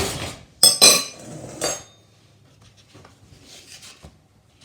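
A large metal spoon tapping an egg, heard as a few sharp, close clinks in a quick burst early on, then a faint scraping and handling that fades to near quiet.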